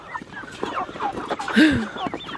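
Cornish cross chickens making short clucks and squawking calls close by, several brief overlapping bird sounds with one louder squawk near the end.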